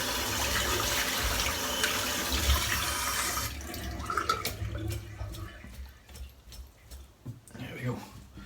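Water runs steadily from a tap in a bathroom sink while lather is rinsed out of a shaving brush. The flow stops partway, leaving scattered drips and handling noises, and someone talks over it.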